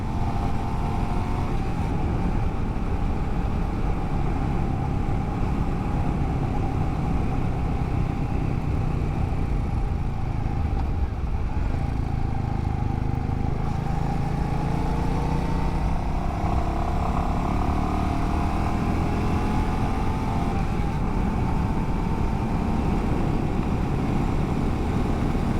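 A Royal Enfield Classic 350 motorcycle rides a twisty road, its engine droning steadily and loudly for the whole stretch while pitch rises and falls through bends, with wind rushing over it.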